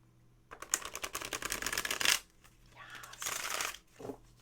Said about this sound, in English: Feels like it's going to shuffle nicely.